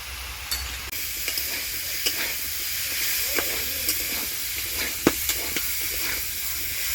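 Green tomato, potato and eggplant sautéing with turmeric and salt, a loud continuous sizzle and hiss broken by sharp spatula knocks and scrapes against the pan at irregular intervals, no talking.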